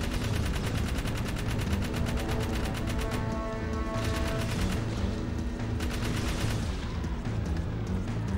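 Gunfire from shooting enemies in Jak 3: a steady, loud barrage of rapid repeated shots runs the whole time, layered with booming impacts and dense game noise, no talking over it.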